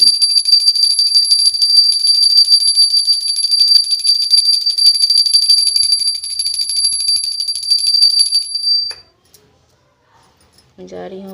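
A small handheld bell rung continuously during Hindu aarti worship at home, a bright rapid ringing held steadily for about nine seconds, then stopping abruptly before a brief voice.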